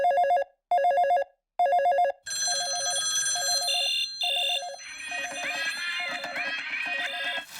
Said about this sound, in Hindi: रुको, मैं ऑगी को फोन करती हूँ।